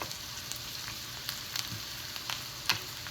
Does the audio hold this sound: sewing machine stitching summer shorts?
no